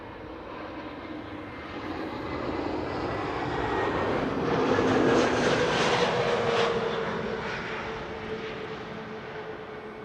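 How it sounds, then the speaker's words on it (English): An Iberia Airbus A320neo airliner, seven years old, arrives at Amsterdam Schiphol Airport, its broad engine roar swelling to a peak midway and fading again, steady and moderately distant. "Iberia flight 737 arriving from Madrid, A320neo, flight time 1 hour and 57 minutes."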